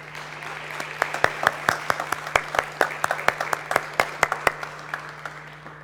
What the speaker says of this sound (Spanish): yo quisiera pedirles un aplauso para ella.